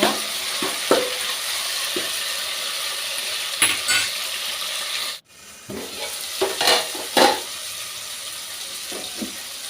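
Masala mixture going into a pan for a sardine and drumstick fish curry, sizzling and bubbling steadily, with intermittent stirring and clattering and a brief sharp break midway, no talk.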